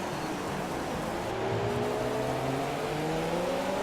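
Ferrari Formula 1 car engine in a racing game, a steady high whine rising in pitch as it accelerates, with other cars droning close by throughout.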